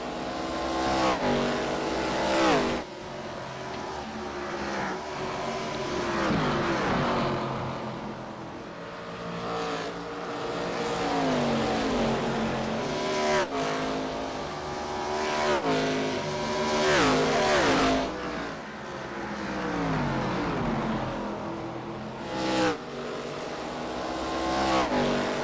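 Race cars lap the Iowa oval in a sim racing league event, engines droning and swelling as they pass at high speed, a steady roar of revving motors with commentary talk running beneath.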